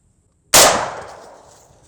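A single loud, close gunshot from an AK-47 variant (AMD 65) firing Tula 7.62x39 ammunition into a backpack, a sharp crack followed by a quickly fading echo.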